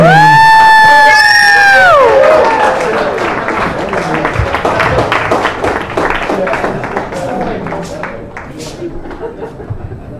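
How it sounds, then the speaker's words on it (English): Wedding guests cheer and applaud for the best man, a loud burst of crowd noise with shouts and clapping that begins after a brief high whistle-like tone and gradually fades over about ten seconds. "let's have a big round of applause for your best man"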